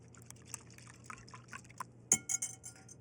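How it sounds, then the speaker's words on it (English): Whipping cream is whisked into an ice cream base in a bowl, with quick, light liquid slaps and soft clinks of the whisk against glass building into a busier, louder patch toward the end. "I'll give this a simple whisk"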